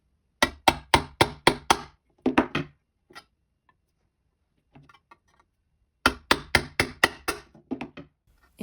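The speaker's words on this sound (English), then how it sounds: "use a screwdriver. Just rotate it while applying pressure. Make several evenly spaced holes for good drainage and airflow." A screwdriver is twisted and pressed into a tin can to pierce drainage holes, giving bursts of sharp metallic taps and scrapes in quick clusters, with quiet gaps between them.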